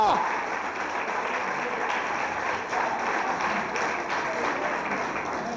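A church congregation claps in a dense, continuous patter of applause during a sermon by a pastor, with a voice speaking throughout.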